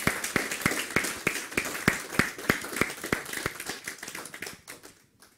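A church congregation claps during a Sunday worship service, a steady run of sharp, fairly quick claps close by that thins out and fades toward the end, with no talk over it.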